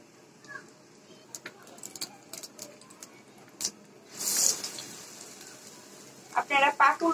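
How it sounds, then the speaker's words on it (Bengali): Pakoras dropped into hot oil for an iftar meal, giving a soft hiss and crackle at low level with scattered small clicks and spatters, swelling into a brief louder bubbling burst midway and again near the end. "তেল গরম হয়ে গেছে, এখন আমি পাকোড়া গুলা দিয়ে দিচ্ছি।"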